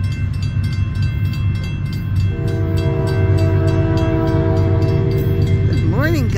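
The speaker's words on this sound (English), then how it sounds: "go to CSO4, and Amtrak's on the way." An Amtrak train rolls past close by with a steady heavy rumble and rhythmic wheel clatter. Its horn sounds a sustained chord partway through, then a short pitch-bending blast near the end.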